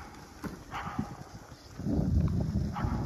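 A dog barks a few times at a distance amid forest ambience during a bike ride near Ukhta, Komi Republic, with footsteps or a clopping rhythm and a rising rumble toward the end.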